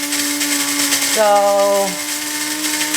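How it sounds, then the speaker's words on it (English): Gourmia electric coffee grinder whirring as it grinds coffee beans, its motor pitch climbing as the grounds finish, heard close with a brief voice over it. "it's almost done grinding now. You can hear the motor starts to rev up more."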